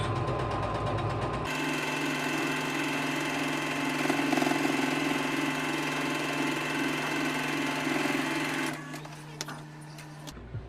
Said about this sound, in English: we're going to sew this down